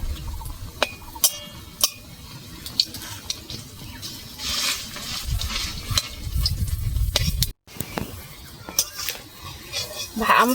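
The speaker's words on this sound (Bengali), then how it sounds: "একটু খুন্তি দিয়ে চেপে দিলে ভেতর পিঠটাও ভালো ভাজা হয়ে যাবে" Onion fritters (peyaji) frying in a pan and being pressed with a spatula, giving a steady sizzle with scraping and clinking strokes and a short break partway through.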